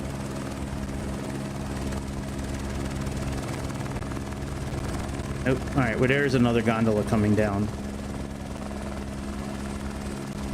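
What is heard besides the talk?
helicopter in flight simulator video game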